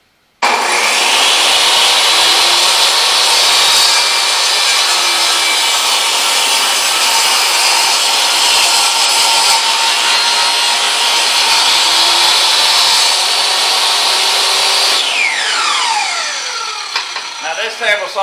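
A table saw cuts through wood with a loud, sustained high whine, steady for several seconds before the blade spins down with a falling pitch at the end.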